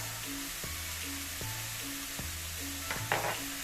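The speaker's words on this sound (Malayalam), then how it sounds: "ചീര ഇട്ട് നന്നായിട്ട് മിക്സ് ചെയ്തിട്ട് 1 ടീസ്പൂൺ ഉപ്പിടാം" Spinach frying in a pan as it is stirred, a low steady sizzle with regular scraping strokes of a spoon about every second, quiet and close.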